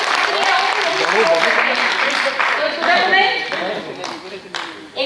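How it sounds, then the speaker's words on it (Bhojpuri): Loud, sustained audience applause and clapping at a Bhojpuri stage play during a multilingual theatre festival in Bhilai, honouring the dholak player; dense crowd clapping fills the whole stretch, fading slightly near the end. "एक बार जोरदार तालियां अतुल जी के लिए"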